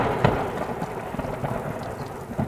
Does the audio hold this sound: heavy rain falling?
yes